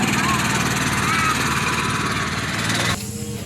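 A tractor engine, a 1456, chugs steadily and loudly while being bled, then drops off abruptly near the end, with a voice speaking over the running motor.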